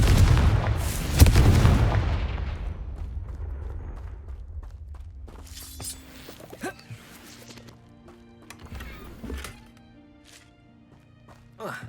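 Fiery Confringo spell blasts in Hogwarts Legacy, with a loud booming burst at the start fading into rumble, then several sharper magical bursts and thuds amid game sounds.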